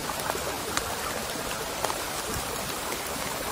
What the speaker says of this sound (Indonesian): seperti teman-teman lihat sendiri hari hujan ya